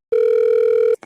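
A phone dial tone placed from a laptop: one steady, loud, pure electronic tone lasting under a second, then a short faint blip as it cuts off.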